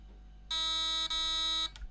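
Electronic beeps from a T238 MOSFET in an airsoft gun during programming, two loud, shrill, closely spaced tones: a long first beep and a shorter second one, followed by faint handling noise.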